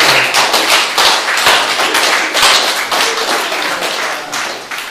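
At Oh Jun-won's 37th painting exhibition in an Insadong gallery, the audience applauds with a dense, lively burst of many hands clapping close by. The clapping stays loud throughout and thins slightly toward the end.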